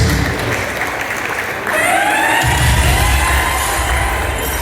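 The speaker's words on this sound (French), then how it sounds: "Je souhaite qu'on applaudisse toutes les dames qui ont participé." An audience at a presentation event applauds the women who took part, a steady wash of clapping that swells slightly partway through and continues to the end, with faint cheering mixed in.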